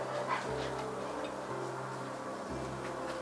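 A puppy lets out soft, faint yips and whimpers indoors, a few brief cries over a low steady hum.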